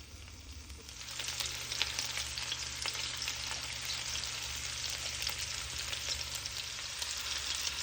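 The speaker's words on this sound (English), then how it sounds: "Now, I'm gonna drop in the sausage." Sausage sizzling in about two tablespoons of hot vegetable oil in a pan, a steady crackling fry that starts faint and builds after the first second, then holds even with no talk.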